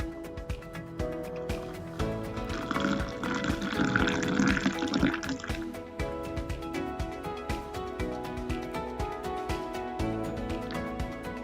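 Mocha coffee, chocolate coffee made coffee-shop style at home, poured into a cup: a soft liquid splash and trickle swells in the middle of the pour over steady background music, with no talk.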